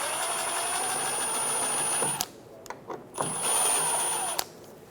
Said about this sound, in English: Using a T30 Bit, remove the screw out of the rear of the mud flap.